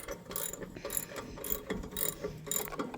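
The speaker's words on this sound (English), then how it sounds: "Get our ratchet out and screw it back in. It's 3/4 inch bolt." A hand ratchet tightens a 3/4 inch bolt on a John Deere Model B grain drill during disc replacement, giving quiet, rapid clicking bursts in repeated strokes, close by with no talk.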